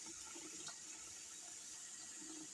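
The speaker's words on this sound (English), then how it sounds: "Just a little hint of water, just a hint, maybe just like a tablespoon or a teaspoon." A small splash of water goes into food during home cooking, a soft, steady trickling hiss lasting a couple of seconds, quiet and close with no talking.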